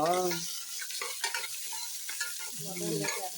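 Onions fry in ghee with a soft, continuous sizzle, while a spoon scrapes the pan in short squeaky bursts at the start and near the end.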